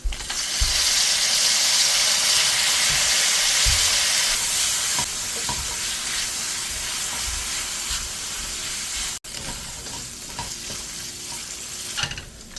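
Soaked dried chili hits a hot plate with a loud, bright sizzle that roars for several seconds, then settles into steadier frying crackle with scraping stirs and a brief dropout.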